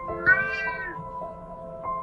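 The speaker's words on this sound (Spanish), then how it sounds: "el gato regresaba y hacía exactamente lo mismo" A cat gives a couple of close, drawn-out meows with rising and falling pitch, the first long and loud, followed by a short, fainter call near the end.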